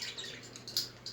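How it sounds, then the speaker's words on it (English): Parrots in a living room, with a few short, high chirps and tweets scattered over a quiet indoor background, fairly faint. "We got 19 birds in our living room, folks."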